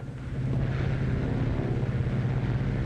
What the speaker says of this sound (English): they're here, the plane